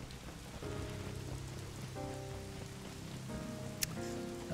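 Steady rain patters through the Final Fantasy Origin game soundscape, a soft continuous wash beneath sustained tonal game music, with one brief sharp click near the end.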